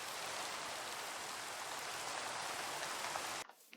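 Steady rain plays in the Minecraft video game, a dense hiss of falling drops that continues evenly for several seconds before it cuts off abruptly. No voices are heard.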